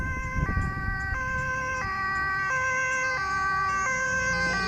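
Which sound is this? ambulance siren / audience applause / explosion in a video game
ambulance siren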